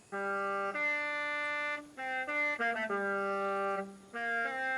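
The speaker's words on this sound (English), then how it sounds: "the Horizon Mexico themed car horn, which sounds a bit like this" A Mexico-themed car horn in Forza Horizon 5 plays a bright, synthetic melodic tune of several sustained horn notes, loud and clear with short gaps between phrases and no talking.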